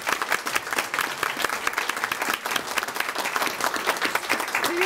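Dense applause from an audience at a Gold Star Mothers convention honoring veterans, steady rapid clapping filling the room for about five seconds with no speech.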